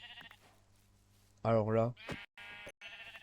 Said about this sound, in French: Pourquoi il y a un mouton brun?